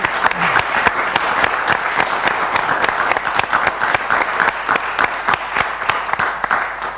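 Sustained applause from an audience at a university event honoring architecture course representatives, dense steady clapping with many sharp individual claps, loud and continuous throughout.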